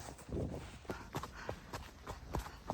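Horses, including a grey, walk toward the stable with steady, evenly spaced hoof clops on the ground, moderately close with no talk over them.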